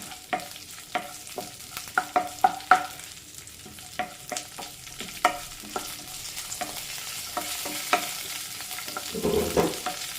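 Green chillies, ginger, garlic and coconut pieces fry in a pan while a spoon stirs them, with repeated scraping knocks over a continuous sizzle, close and fairly loud, with no speech.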